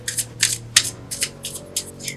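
A Deviant Moon tarot card deck being shuffled by hand, heard as a quick rhythmic run of about eight crisp papery riffles, close and alone.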